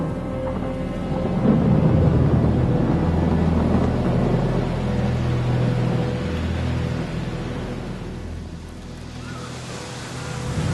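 A thunderstorm with heavy rain, heard as a steady, loud roar of downpour and deep rumbling thunder that eases slightly near the end, with no voices.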